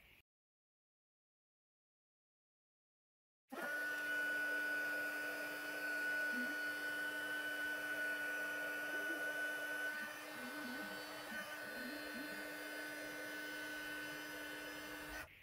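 Heat tool melting white embossing powder on a handmade card switches on after a few seconds of silence and then blows with a steady, close whirring hum that lasts the rest of the clip.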